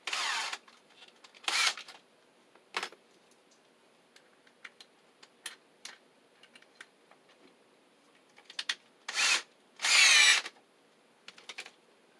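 A power drill fitted with a screw bit drives a screw with a washer while protecting Romex cable coming up through a floor over a sill, giving several short whirring bursts separated by quiet clicks and handling noises, close and fairly loud.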